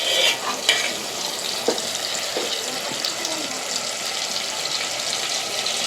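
Marinated chicken frying in a pan, a constant watery sizzle with a few scraping stirs and soft knocks near the start, steady and moderately loud at close range.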